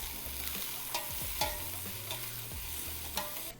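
Celery and onion sautéing in a pot for minestrone stew, a continuous sizzle broken by a few scraping stirs, close and steady with no talk.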